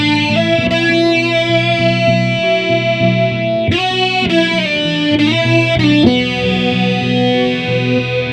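Loud distorted electric guitar chords swept by a JHS 3 Series Flanger pedal, giving a swirling, jet-like whoosh that rises and falls as the notes ring out.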